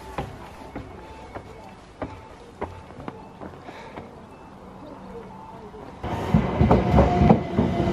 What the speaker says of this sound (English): Train spotting.